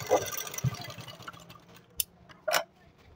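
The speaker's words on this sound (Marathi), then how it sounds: "याला आपण डबल शिलाई करून घेणार आहोत." A sewing machine runs a double stitch on a two-piece katori blouse in short, close whirring bursts with pauses between them, and no voices.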